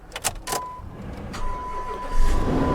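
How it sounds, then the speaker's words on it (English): A small pickup truck's engine cranks and catches, settling into a low, steady idle, with a brief electronic chime and a few clicks near the start. "Oh yeah, fire right up. Fired right up."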